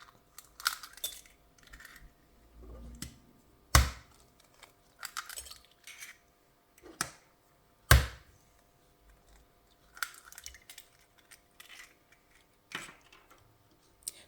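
Three eggs cracked into a bowl for a yogurt cake batter, heard as a few sharp isolated taps and clicks spaced apart amid quiet kitchen handling sounds.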